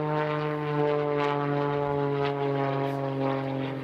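An aerobatic propeller plane drones overhead at an air show aerobatic championship, its engine a loud, steady buzzing hum with strong harmonics, holding level throughout with no talk.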